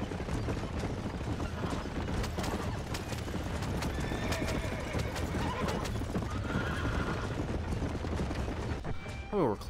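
Horses in a video game whinny and clop their hooves steadily through a busy, noisy scene, with mechanical clatter in the background.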